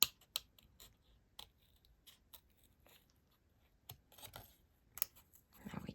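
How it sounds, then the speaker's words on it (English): Scissors snip around a hellebore card in sparse, crisp cuts, close and quiet, with a cluster of rustling and clicks toward the end. "So let's just cut around."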